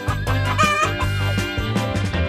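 A hen kept with a chick gives a run of close, repeated clucks and throaty calls in quick uneven bursts, loud and alone with no talking.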